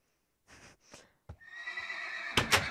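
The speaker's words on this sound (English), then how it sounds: "the Red Italian's horse, which is named the Giant Douche" A horse whinnies in Minecraft, a short breathy call rising into a loud, drawn-out neigh, with a soft hoof clop near the start; no voices.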